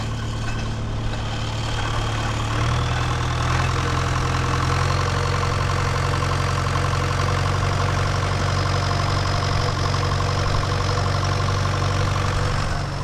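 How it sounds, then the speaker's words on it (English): A farm engine idles steadily and continuously, a low rumbling drone close by with a slight knock, no voices. "The engine started."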